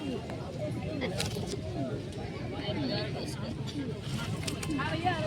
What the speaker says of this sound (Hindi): काफ़ी अच्छे कबूतर हैं भाई।